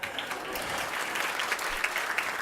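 Audience applause at an awards ceremony honoring recipients, a steady dense patter of clapping from a crowd throughout, fairly near and even in level.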